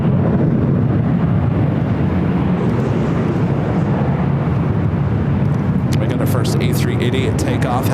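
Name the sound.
Airbus A380 taking off at LAX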